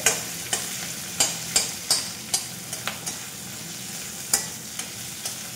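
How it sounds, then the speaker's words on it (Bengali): A fish head frying in a pan, low steady sizzle broken by a series of sharp spatula scrapes and taps against the pan at irregular intervals. "মাছের মাথাটা ভালো করে ভাজতে হবে, একদম মুড়া করে।"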